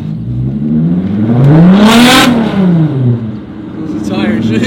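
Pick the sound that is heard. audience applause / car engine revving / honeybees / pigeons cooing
car engine revving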